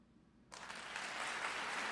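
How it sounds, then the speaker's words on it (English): Applause for a birthday on a live tech news show starts abruptly after a half-second of quiet and builds into steady, dense clapping that continues without talk. "Let's get the applause going for Corey."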